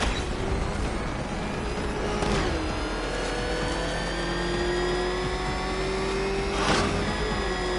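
Car engine revving in The Dark Knight Rises game, a sustained whirring motor with rising and falling pitch, swelling twice as it accelerates, steady and fairly loud with no talk.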